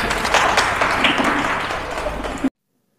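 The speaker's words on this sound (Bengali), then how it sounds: "জোরে একটা হাততালি সবাই" Audience at a Teachers Day celebration at a yoga centre applauding loudly and steadily, a dense wash of clapping that runs for about two and a half seconds before cutting off abruptly.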